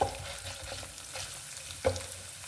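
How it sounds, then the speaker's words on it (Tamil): Mustard seeds splutter in hot oil for a tomato chutney tempering, a low continuous sizzle with a couple of sharp pops and light stirring, heard close with no voices. "கடுகு பொரிஞ்சிருச்சு"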